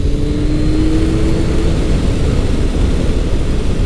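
A Kawasaki Concours 1400 sport-tourer being ridden through twisty roads: a steady, loud drone of engine and rushing wind, continuous and unbroken from start to finish.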